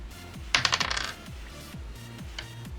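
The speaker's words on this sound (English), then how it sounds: "You hear like clattering on a keyboard." A computer keyboard clatters in a quick burst of rapid, close key clicks lasting about half a second, then falls quiet over a steady low background hum.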